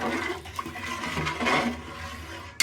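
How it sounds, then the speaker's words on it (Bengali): Water pours into a pot of fish lentil dal as it cooks, making a continuous rushing, splashing stream that lasts a few seconds, close and fairly loud. "দিয়ে দিচ্ছি পরিমাণ মতো পানি।"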